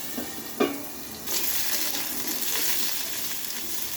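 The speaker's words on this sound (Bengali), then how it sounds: "আলুটাকে আমার সুন্দর করে ভেজে নেব লাল লাল করে" Potatoes frying in a pan, a constant close sizzle with a couple of stirring scrapes early on, no voices.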